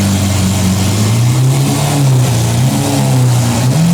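A Lamborghini Aventador SVJ with a Rift exhaust revs loudly and close up, its deep engine note rising and falling continuously with a harsh exhaust roar.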